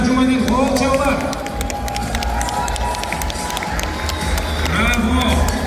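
Hundreds of Kyrgyz expatriates gathered in a New Jersey restaurant clap and cheer, sharp handclaps scattered over a busy crowd roar with shouts and voices talking loudly throughout.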